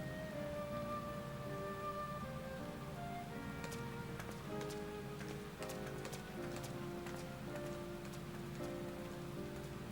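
Steady rain falls continuously in the video game Final Fantasy XIV Dawntrail, a dense even patter with soft game music tones layered over it and no talking.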